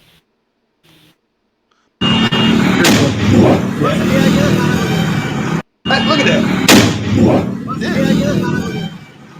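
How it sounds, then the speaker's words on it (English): A power line hit by something erupts in a loud, sustained explosive roar and crackle that runs for several seconds, briefly cut off and then resuming, with a voice over it. "That was an explosion."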